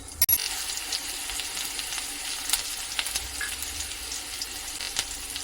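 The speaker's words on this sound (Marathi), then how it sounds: "कढईमध्ये थोडंसं तेल घालून घ्यायचं एक चमचा जिरं घालायचं" Crackling sizzle of cumin seeds frying in hot oil in a kadhai, with a sharp click near the start and scattered pops throughout, close up and without speech.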